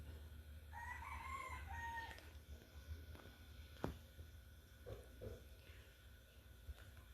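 A chicken in a Utahraptor swamp video game gives one clear rooster crow early on, followed by a few faint, scattered clucks over a low background hum.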